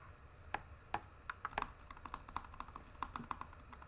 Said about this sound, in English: By the way, that's the sound of my keyboard.